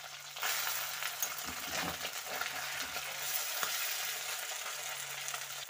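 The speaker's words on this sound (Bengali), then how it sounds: "তো প্রথমে আমি মাছগুলো ভেজে নেব। তো মাছটা খুব বেশি ভাজবো না, হালকাই ভাজবো।" Small kachki fish fry in hot oil, giving a soft, continuous sizzle with a little stirring and scraping throughout, fairly faint and close with no talking.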